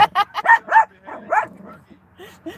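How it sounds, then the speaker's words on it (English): A dog in a car barks and yips at another dog in a neighbouring car: a close, quick run of sharp barks mixed with whiny, whimpering yelps, then a brief pause and another short yip. "Oh, Bella's talking to the doggy next to her"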